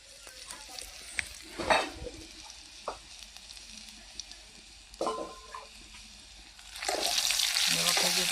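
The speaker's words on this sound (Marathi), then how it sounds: "भाजीला फोडणी द्यायची." Garlic and turmeric fry in hot oil for tempering dill greens, a low, steady sizzle broken by a few louder bursts of stirring and clatter before it swells into loud crackling near the end.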